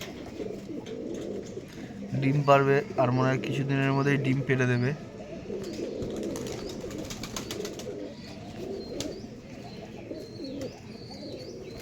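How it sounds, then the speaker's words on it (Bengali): A white pigeon and a teddy pigeon kept at home coo in a series of soft, throaty, repeated calls, close by, before a person's talking takes over. "একটা সাদা পায়রা একটা ট্যাডি পায়রা"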